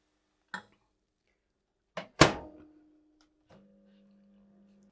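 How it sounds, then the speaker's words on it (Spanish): A kitchen microwave oven heating a little milk: a couple of clicks and a door shutting, then a steady low electrical hum that starts and runs on alone at moderate level. "meto la leche un poquito al microondas"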